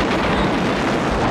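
A loud, continuous explosion roars as helicopters are destroyed in the film Iron Eagle, a dense rumbling blast with no gaps over its short length.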